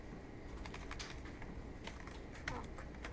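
Rapid, quiet clicking of fingers typing on a computer keyboard, with irregular keystrokes running steadily against a soft background hiss.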